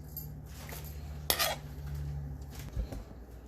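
A slotted spoon scooping browned meat from a pot for Brunswick stew, heard as soft scraping and a single sharp metallic clink against the pot, with a low steady hum underneath.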